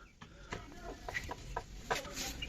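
Brahma breed hens kept through bitter winter cold cluck softly in short, scattered calls, faint and somewhat distant against low background noise.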